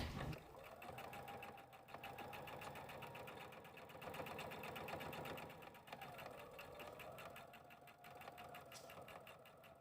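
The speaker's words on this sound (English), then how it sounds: "So I'm going to sew this seam" Sewing machine running steadily for nearly the whole stretch, stitching a seam in fabric for a charm-square basket, with a continuous fast mechanical whir and rhythmic needle chatter at fairly even loudness, no talking.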